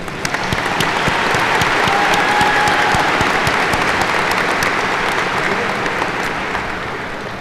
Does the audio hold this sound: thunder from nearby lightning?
no